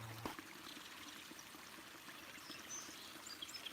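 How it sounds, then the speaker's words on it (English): Water from a small waterfall spills steadily into a pond, a soft continuous rushing and trickling heard close by, with no voices. "It's pretty cool we have a waterfall."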